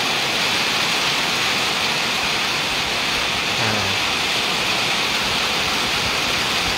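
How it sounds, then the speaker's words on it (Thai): Steady rain falls during a hot-weather walk, a dense, even hiss that runs unbroken from start to finish with no voices over it. "โชคดีที่เวลาเดินอากาศร้อนๆก็ยังมีฝนตก ให้ได้คลายร้อน"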